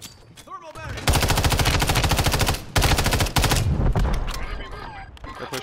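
Close, loud automatic gunfire in an online video game match, long rapid bursts with a short break midway, while brief voice chatter comes through faintly around it.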